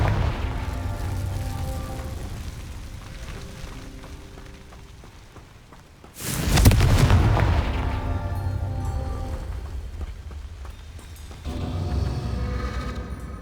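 A Confringo fire spell explodes in the Hogwarts Legacy video game, a loud sudden boom that rolls off into a rumbling tail over steady game ambience.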